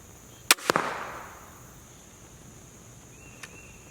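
A TenPoint crossbow fires outdoors, giving a sharp snap and a quick second crack that trail off into a brief hiss. A faint distant tick follows, with insects chirping steadily in the background.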